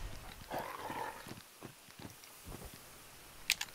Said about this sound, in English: Come here, you fucking dog.